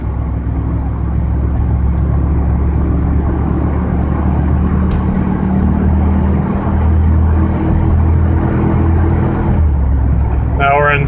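Steady drone of a car with an automatic transmission treated with Lucas Stop Slip, accelerating through its gears as the engine note climbs and resettles, loud and close from inside the cabin.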